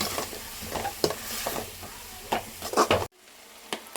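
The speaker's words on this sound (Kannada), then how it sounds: "ಟೊಮೆಟೊ ಫುಲ್ಲು ಸಾಫ್ಟ್ ಆಗೋ ತನಕ ಕೂಡ ಫ್ರೈ ಮಾಡಬೇಕು." Tomatoes stir-frying in a pan for a radish and egg palya, with a steady sizzle and repeated scraping strokes of a spatula, close and fairly loud, cutting off near the end to quiet.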